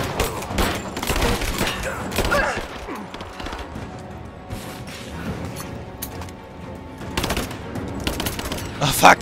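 Rapid gunfire bursts and sharp impacts from combat in the video game Rise of the Tomb Raider, dense and loud throughout, with crashes and mechanical clatter mixed in and a voice talking at times.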